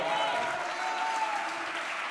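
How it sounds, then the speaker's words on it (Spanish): A church congregation applauds for the Lord, a short, soft, even wash of clapping at a distance with a faint voice over it. "Dele un aplauso al Señor."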